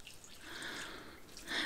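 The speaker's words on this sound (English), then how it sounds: "Now, in the end, we just water it." Water poured onto the soil of a newly planted pineapple top, giving a soft, close trickle with light dripping and splashing that stays faint and steady throughout.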